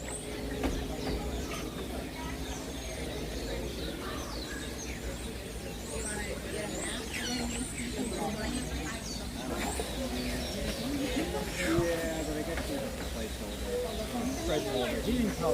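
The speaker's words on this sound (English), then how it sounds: "This is where the birds are." Bird calls fill the space at Animal Kingdom, Walt Disney World, with soft cooing and scattered chirps layered over steady background noise and occasional voices.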